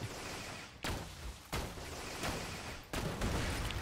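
Borderlands 2 small enemy turret firing in short bursts: four sharp, quiet shots spaced roughly a second apart, each followed by a brief decaying tail, with no talking.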